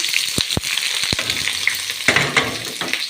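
Onions frying in a pan on a gas stove, a close steady sizzle with a few sharp clicks and knocks of utensils, no voices.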